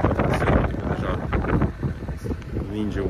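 Fierce gusting wind in a cold Baltic blizzard in Latvia buffets the microphone with a loud, rumbling roar that stays steady throughout, and a voice speaks under it.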